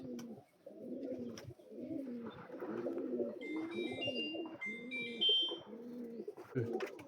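Pigeons close by give a steady run of soft, rhythmic cooing, repeated low phrases with some faint higher chirps in the background and no talk.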